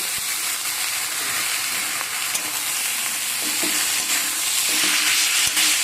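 Flattened rice and grated potato fry in a pan with a steady, bright sizzle, while a spoon stirs and scrapes through the mix in occasional soft knocks beneath the constant hiss.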